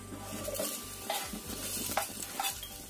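Shallots and sliced garlic fry in a pot as the base of an Indonesian vegetable soup. A steady, close sizzle runs throughout, broken by a few scraping stirs of a utensil against the pot.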